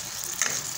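Spice masala frying in hot oil for a Khandeshi shev bhaji, a steady close sizzle with a brief stir in the middle.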